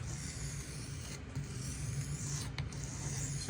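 A Benchmade 940 knife edge is stroked steadily across a sharpening stone, a continuous soft rasping scrape with brief lifts between passes, fairly quiet and without talk.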